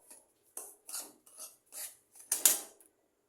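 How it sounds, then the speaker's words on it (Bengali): Spoon scraping and stirring fried semolina with ghee in a pan, a series of short metallic scrapes and rubs in an irregular rhythm, close and moderately quiet, with the last stroke the loudest. "এটাকে ভালো করে আবার একটু নাড়িয়ে চাড়িয়ে নেব।"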